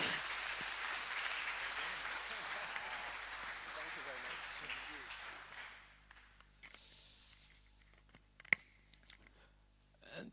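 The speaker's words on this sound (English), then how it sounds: "Please a big applause for Kai, Camp Venlo," Audience applause at a web conference session, a broad wash of clapping for several seconds that thins out and fades, followed by quieter scattered sounds.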